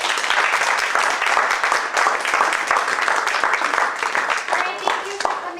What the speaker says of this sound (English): give a round of applause for all of the candidates